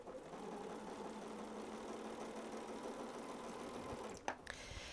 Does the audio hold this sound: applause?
no